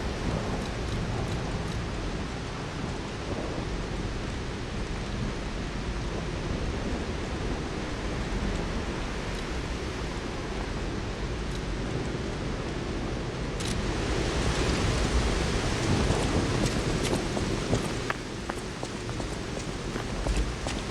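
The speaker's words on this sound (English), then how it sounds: "turn down the ambient sound for like the rain and whatnot, because that is really loud" Loud ambient rain in the Lies of P game, a dense steady downpour with pattering on surfaces throughout, growing slightly heavier toward the end, with no talk.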